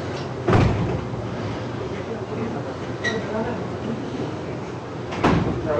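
A door closes twice indoors in a home, each a sharp thump over a steady background of voices and room noise, one near the start and one near the end.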